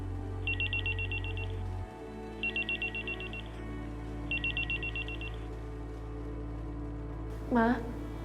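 A telephone rings in an Indonesian TV drama scene: three evenly spaced bursts of trilling electronic rings, loud and close, then a brief voice near the end.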